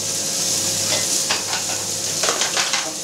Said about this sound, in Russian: Жарили классический стейк на сковородке.